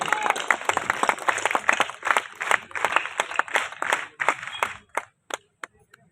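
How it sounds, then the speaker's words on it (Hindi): An audience claps steadily, dense and lively applause that thins out toward the end into a few scattered final claps. "एक बार तालियां हो जाए बच्चों के लिए, छोटे छोटे बच्चों के लिए।"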